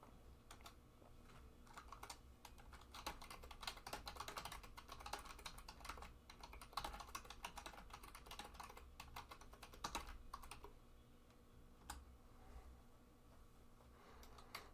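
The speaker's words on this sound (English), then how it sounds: "So I'll just type that in." Steady stretch of computer keyboard typing, a message being entered before an ISC 8 Team Fortress match, with irregular close key clicks continuing throughout and no talking.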